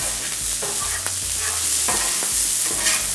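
Bacon, corn, onions and peppers sizzling on a Blackstone flat-top griddle, a loud, close, continuous hiss with scraping and clacking as a spatula stirs and pushes the food around.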